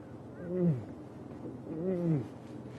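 A human voice imitates the low contact call lions use between each other, giving two soft, moaning calls over faint vehicle rumble.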